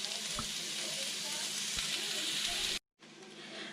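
Chopped onions sizzle steadily in hot bacon fat in a pan, a loud continuous frying hiss with a few stirring scrapes, cut by a brief silent gap before the sizzle returns.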